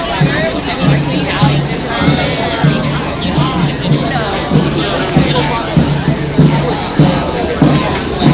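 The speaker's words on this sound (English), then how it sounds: "The crowd's grown to about 500 people." A crowd of about 500 protesters gathers outside a bank headquarters, a loud, steady wash of overlapping voices and shuffling, close and continuous, with talk throughout.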